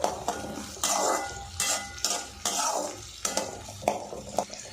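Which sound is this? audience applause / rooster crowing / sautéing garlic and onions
sautéing garlic and onions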